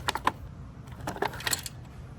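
A Honda HRX217 mower engine with a broken connecting rod rattling as it is moved, loose metal clicks and clinks in a few quick irregular clusters.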